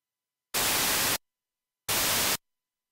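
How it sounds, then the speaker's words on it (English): White noise synth layer used in a dance-pop track production with dynamic delay applied, heard as two loud, flat hissing bursts of about half a second each, separated by silence. "So I've got my white noise in there."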